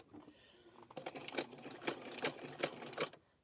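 A sewing machine back stitches through fabric-wrapped clothesline rope, its needle thumping in an irregular series of close, distinct rattling strokes after a brief quiet start.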